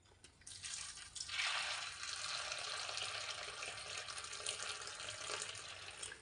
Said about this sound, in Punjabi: ਆਪਾਂ ਇਹਦੇ ਵਿੱਚ ਪਾਣੀ ਪਾ ਕੇ ਇਹਨੂੰ ਭਿਉਂ ਦਿੰਨੇ ਆ ਖਿੱਲਾ ਨੂੰ